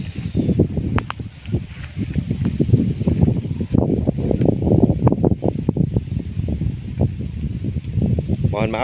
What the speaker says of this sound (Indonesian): ini untuk anginnya juga lumayan kencang, jadi kalau sedikit mengganggu saya minta maaf kawan